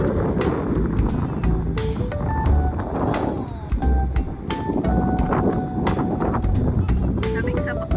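Strong wind buffets the microphone in steady, roaring gusts, with people talking faintly underneath.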